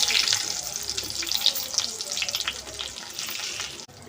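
Onion frying in a pan for egg chilli gives a steady, loud, crackling sizzle with bright hissing spatters throughout, cutting off abruptly near the end.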